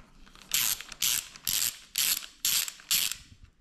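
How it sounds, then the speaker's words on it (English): Ratchet wrench loosening a 13mm bolt on a Ducati Scrambler 800 front fork, six evenly spaced bursts of rapid clicking, close and crisp, no talk. "you just need 14mm key to loosen this bolt"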